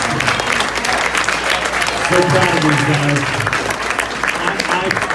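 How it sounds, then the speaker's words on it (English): An audience at a high school band banquet applauds the senior class with sustained crowd clapping, while someone speaks over it partway through. "Another round of applause, guys, for our senior class."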